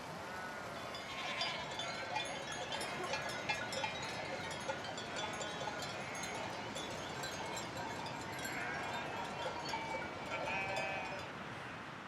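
A herd of sheep and goats bleating over a continuous outdoor murmur, with scattered calls and faint cowbell-like clinks throughout.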